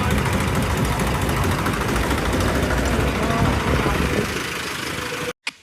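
Tractors in a farmers' rally roll past with a steady, loud, continuous engine drone and low rumble, holding throughout before briefly cutting out near the end, with voices faintly mixed in.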